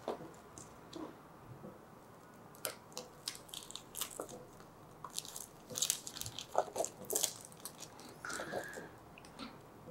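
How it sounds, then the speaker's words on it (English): Protective film peeling off a medical face shield gives faint, close crackles and small crinkling ticks in uneven bursts against a quiet background. "peel off the protective film a little bit until it is below the holes."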